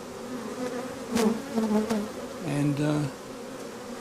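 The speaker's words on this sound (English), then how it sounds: "there's always going to be so many bees at this entrance" Honey bees buzz thickly around a hive entrance, a steady close drone with louder wingbeat passes rising and falling as individual bees fly near; a voice speaks briefly underneath.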